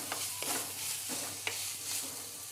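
Onions sautéing in a pan for a Kerala-style prawn roast: a soft continuous sizzle broken by a few quick stirring scrapes, fairly quiet and with no talk.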